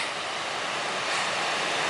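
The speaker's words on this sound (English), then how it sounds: "This is the water slide that we're walking by." Water rushing down a natural rock water slide along a hiking trail, a steady, loud hiss of flowing water heard close and unbroken for a brief moment, with no talking.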